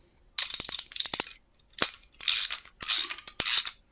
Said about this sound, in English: and you'll tighten this nut down